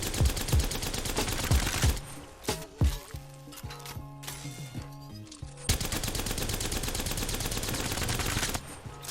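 Console Apex Legends gunfire aimed at training-range target dummies: loud rapid automatic bursts, a brief pause with scattered shots in the middle, then another long sustained stream of fire.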